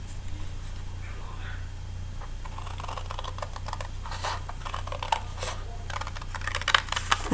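Cardstock being cut with quick snipping and crisp clicking strokes that grow busier toward the end, heard close over a low steady hum.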